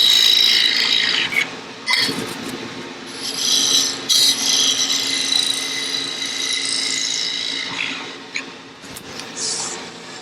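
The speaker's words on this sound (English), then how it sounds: "Just going to use a skew as a scraper here to clean up the surface a little bit." A skew chisel used as a scraper rasps steadily against a spinning wooden lidded box on a lathe, a continuous close scraping hiss with brief breaks as the tool is repositioned.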